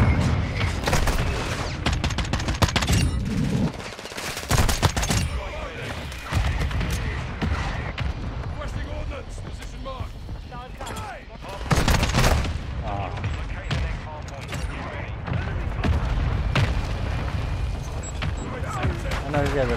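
Constant gunfire in a shooting video game, rapid overlapping bursts of shots and booming impacts lasting throughout, loud and chaotic, with a player talking over it at times.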